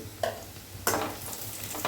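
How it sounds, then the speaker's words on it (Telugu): Oil sizzles steadily in a pan as onions and tempering seeds fry, with a couple of brief scraping stirs and clinks cutting in. "ఇప్పుడు ఇవి గోల్డెన్ కలర్లో వచ్చే వరకు ఫ్రై చేసుకుందాము"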